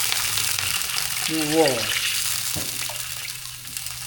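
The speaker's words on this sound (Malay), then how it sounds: "Lepas tu kita buat air masuk." Water pours and hisses steadily into a hot pot while making an egg and vegetable soup, a loud continuous rushing with sizzling, and a voice briefly exclaims partway through.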